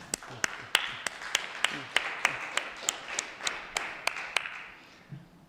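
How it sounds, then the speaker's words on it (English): Audience applause at a tech talk on software bugs, a steady run of sharp, separate claps from a small crowd for about five seconds that thins out at the end. "I feel like they all deserve a big applause from us for that."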